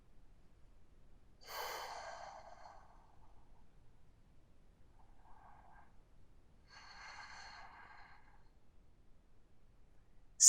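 Slow, deep breaths taken while holding a seated yoga pose: a clear, close inhale-exhale, then a fainter breath and another audible exhale, separated by quiet pauses.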